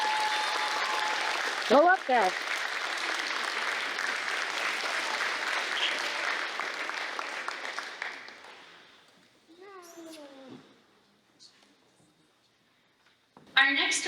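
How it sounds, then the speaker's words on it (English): Audience applause at a student invention convention award ceremony, a steady, dense clapping that fills most of the clip before fading, with brief voices and a few scattered claps near the end. "Please give a big round of applause"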